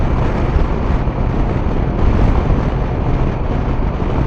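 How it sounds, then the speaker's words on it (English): Loud, steady wind roar buffeting the microphone while riding a Honda motorcycle behind its windshield, a dense rumbling rush with no break. "Now I have more wind"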